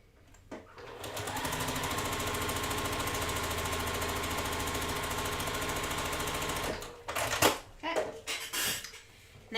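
Sewing machine stitching quarter-inch seams on a quilt block, a steady rapid mechanical whir and needle clatter running for several seconds, then stopping, followed by a few handling clatters.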